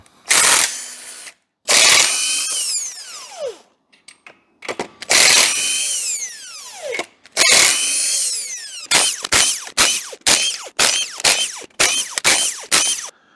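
Socket tools work loose the main bearing caps of an engine in a series of loud, close mechanical bursts: several long runs with short pauses, then a quick string of short rattling bursts.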